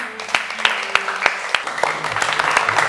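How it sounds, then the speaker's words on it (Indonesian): Studio audience applauding on an Indonesian comedy show, a burst of clapping with sharp individual claps standing out early and then thickening into steady, moderately loud applause, with a voice talking over it. "Mari beri tepuk tangan sama-sama untuk Pade, Haikal, dan Dodot."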